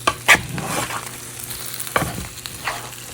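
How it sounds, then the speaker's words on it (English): A jalapeno popper chicken casserole with cheese browning on top is stirred, giving a few scraping and clinking strokes over a soft, steady sizzle, close and moderately loud, with no one speaking. "so I'm going to stir this up"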